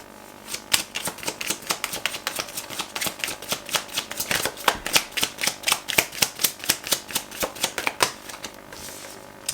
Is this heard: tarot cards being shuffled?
yes